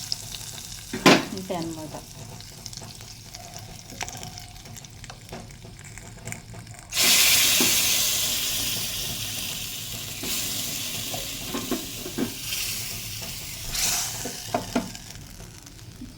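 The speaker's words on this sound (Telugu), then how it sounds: "తాలింపులో ఇలా పోపు అనేది వేసేసుకున్నాం కదా" Popu tempering sizzles in hot oil in a pan, a steady crackling hiss that jumps sharply louder partway through and then slowly settles, with scattered clinks of a spoon and a brief spoken remark.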